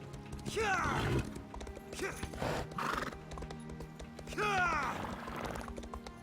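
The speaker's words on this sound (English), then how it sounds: "This is how you ride your horse to make it sprint and go faster." A horse in a video game gallops with rapid clip-clop hoofbeats and neighs loudly twice, set against a game music backdrop.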